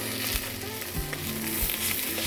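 An egg sizzles in a frying pan of hot oil: a dense, steady crackle with small pops and stirring scrapes, close and alone, without voices.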